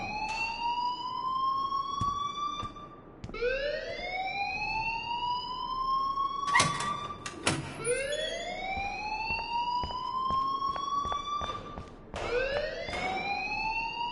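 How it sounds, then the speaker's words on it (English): An alarm wails in the video game Life is Strange, a loud rising electronic siren tone that repeats in long sweeps, broken by a few sharp clicks and thumps partway through. "please turn off that alarm since that's your job"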